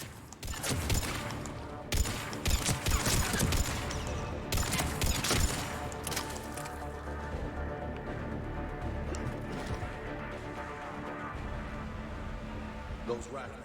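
Rapid bursts of gunfire in Mass Effect 3 crackle loudly through the first seconds, then ease into a steady wash of combat noise and low rumble, with game voices talking over the mix.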